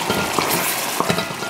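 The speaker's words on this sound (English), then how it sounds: "So I'll just keep stirring the tomatoes" Tomatoes fry in a pot on a stove for a spinach stew and are stirred. A steady close sizzle runs throughout, with light scraping and clinks from the stirring.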